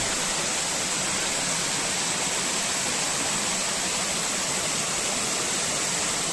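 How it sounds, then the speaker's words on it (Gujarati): Water pours down from high on Girnar mountain near Junagadh, a steady, dense hiss of falling water that fills the whole clip without pause. "બહુ ઉપરથી પાણી આવે છે"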